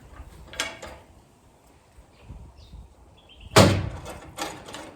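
Metal DivideUte tray divider slider bracket on a ute tray, released by undoing hand nuts and pushed forward: a few short, close metallic clunks and scrapes, with a sharp knock late on and quiet gaps between.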